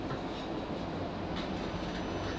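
Steady rumble of a South Western Railway Class 458 electric train running on its way to London Waterloo, heard from on board as a continuous, even roar with faint wheel clatter and no talk.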